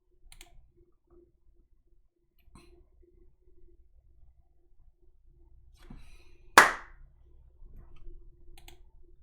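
A single sharp clap rings out in a video game, one loud crisp hit standing alone against quiet background ticks and faint clicks.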